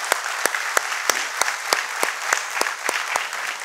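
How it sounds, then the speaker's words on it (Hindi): Seminar audience applauding for themselves at a success talk, a steady crowd clapping with a regular pulse of sharper claps roughly every third of a second, no voices. "खुद के लिए तालियां बजा सकते हैं"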